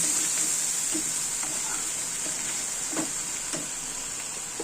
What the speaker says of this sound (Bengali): সবগুলো কিন্তু ভালো করে নাড়াচাড়া করে নেব